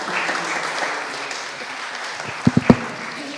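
Audience applause at a public debate fills the room as a steady, moderately loud wash of clapping, ending with a few sharp, distinct claps near the end.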